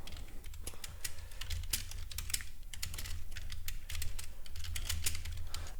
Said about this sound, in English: I'm going to type that up right now